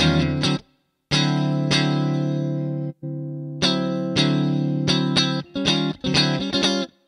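Funky electric guitar through a Neural DSP Archetype Cory Wong plugin with a touch of reverb, playing clean, bright chords in short rhythmic bursts with gaps between them, some stabs choppy and clipped, others sustained.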